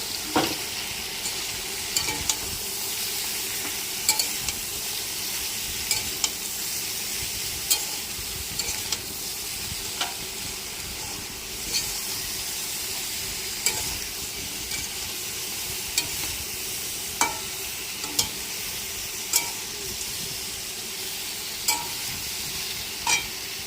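Chilli powder and turmeric being stirred into a frying pan for a vegetarian ridge gourd curry with broad bean seeds, a steady sizzle and hiss with regular scraping strokes of a spoon across the pan throughout, no voices.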